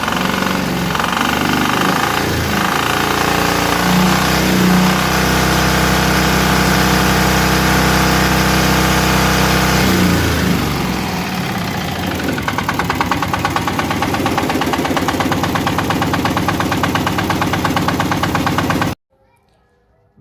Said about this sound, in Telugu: ఇప్పుడు మనం ఇంజన్ కండిషన్ ఒకసారి చూద్దాం.